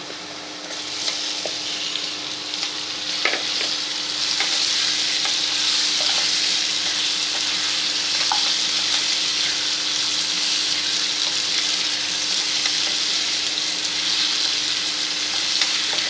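Potato pieces cut with the skin on fry with softened onions in a pan, a loud continuous sizzle running throughout with occasional stirring clicks and scrapes, nearby and unbroken by talk.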